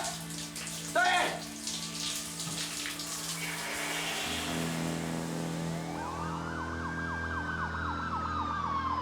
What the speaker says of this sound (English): You could hear sirens all over the valley.